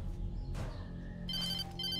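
A telephone rings in the Alan Wake video game, with a trilling electronic ring in the second half over a low, steady background hum.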